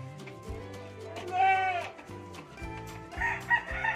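Goats bleat in a farm pen in the Philippines, a few wavering, nasal calls close by, overlapping with rooster-like cries and shuffling animal noise.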